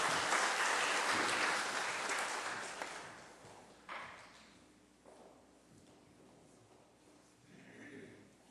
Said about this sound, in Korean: 자, 소리보기 팀을 한번 좀 박수로 맞이해 주시면 좋겠습니다.